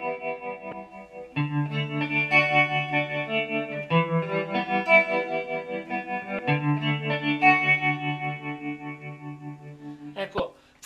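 Guitar through a Nova Modulator pedal preset with tremolo, playing sustained chords that pulse steadily, in several held phrases with clean gaps between changes.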